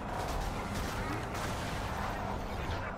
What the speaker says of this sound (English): I'm shooting rockets, please